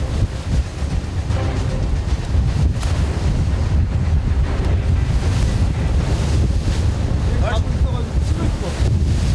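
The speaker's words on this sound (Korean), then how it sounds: "하지만 파도는 좀처럼 가라앉을 생각을 않는다" Rough sea waves crash and churn around a fishing boat off Heuksando while strong wind buffets the microphone, a loud, continuous roar with surging swells and no voices.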